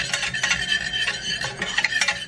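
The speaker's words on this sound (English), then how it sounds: "you're just going to keep whisking" A whisk scrapes and swishes rhythmically through mashed blueberries cooking down in a pot, with repeated close strokes and a soft bubbling sizzle underneath.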